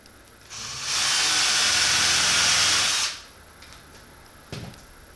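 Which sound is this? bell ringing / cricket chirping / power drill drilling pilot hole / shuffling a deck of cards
power drill drilling pilot hole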